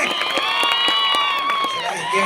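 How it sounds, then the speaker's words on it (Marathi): An audience applauding a singer at a live Marathi song event, heard as dense, continuous clapping and crowd noise, close and loud, while a person talks over it. "जोरदार टाळ्या होत्या मामासाठी."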